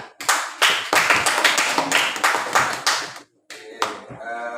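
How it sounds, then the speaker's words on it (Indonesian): A classroom of students claps together in a school lesson, loud rapid bursts of applause in several quick surges, a brief pause, then a short final burst with some voices mixed in. "Tepuk tangan."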